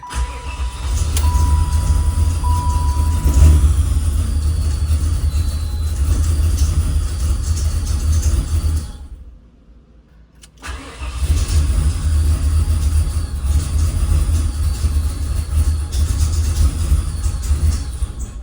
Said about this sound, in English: Just to get it to idle, it might need some throttle blade.